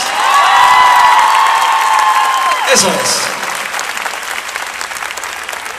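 Loud applause and cheering from a crowd greeting a children's and youth brass band from a Oaxacan village, with a sustained tone fading out underneath and someone speaking briefly as the clapping continues.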